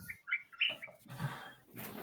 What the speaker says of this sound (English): It sounds like there's a budgerigar in the background